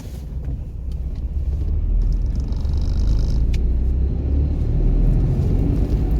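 A car engine during a driving lesson, low rumbling revs that swell and hold steady, close inside the cabin with no talking.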